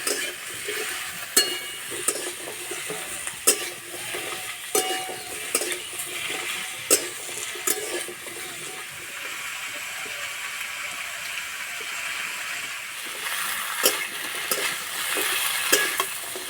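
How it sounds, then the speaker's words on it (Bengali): Potatoes fry lightly in oil in a pan, a soft continuous sizzle broken by regular sharp scrapes and clicks of a spatula stirring them, close and steady with no talk. "আলু হালকা করে একটু ভেজে নেব।"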